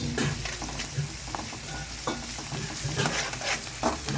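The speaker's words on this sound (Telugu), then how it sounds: "కాస్త అల్లం పచ్చివాసన పోయేంత వరకు వేయించుకోవాలి" Ginger paste sizzles steadily in a hot pan, with a spoon scraping and stirring in short repeated strokes over a constant close frying hiss.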